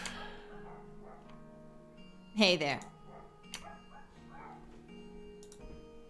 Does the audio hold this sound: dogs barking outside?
yes